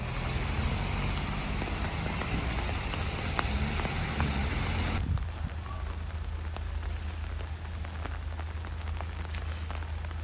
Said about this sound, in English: today it's raining cats and dogs.